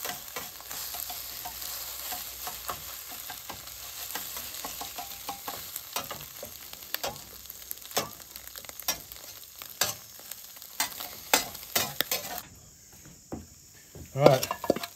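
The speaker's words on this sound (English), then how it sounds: "Scramble us up a couple eggs real quick." Eggs scrambled and frying in a skillet, a steady sizzle with repeated scraping and stirring taps that grow sharper and more scattered toward the end.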